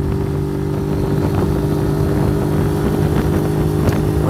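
A Zontes 125 Roadster motorcycle engine runs at a steady drone while riding, heard up close with constant wind noise and no talking.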